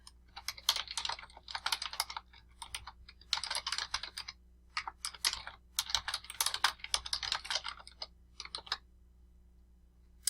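Quick bursts of typing on a computer keyboard clatter close by in a quiet room, with short pauses between runs of rapid key clicks and a low steady hum underneath.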